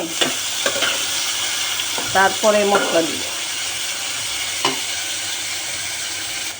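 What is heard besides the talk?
onions being stirred and fried in a pan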